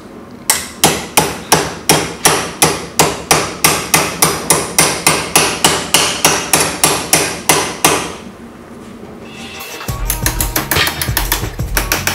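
Copper being hammered into a wrist band over an old piece of aluminium pipe: loud, evenly spaced metallic blows, about three per second for eight seconds, then a duller, busier clatter.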